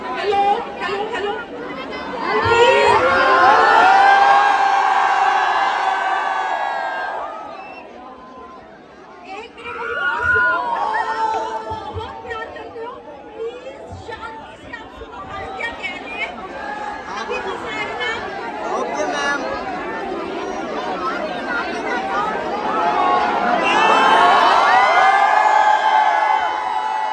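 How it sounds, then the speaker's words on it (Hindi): A large, dense crowd at a YouTuber fan meetup chatters and cheers loudly, with surges of excited whoops and voices throughout and a brief lull midway. "खतरनाक भीड़ आ चुकी है"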